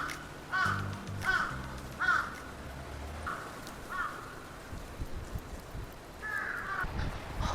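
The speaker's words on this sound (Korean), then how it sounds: "아니 여기 까마귀들 왜 이렇게 커요?" Crows caw repeatedly on a street in Fukuoka, several loud, harsh calls in an uneven sequence over a steady background hiss resembling rain.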